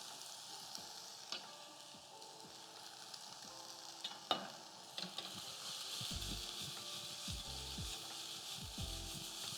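Ginger and garlic frying in oil in a pan for a quick dinner, a steady sizzle with a few sharp pops and clinks, while low rhythmic stirring scrapes come in over the last few seconds.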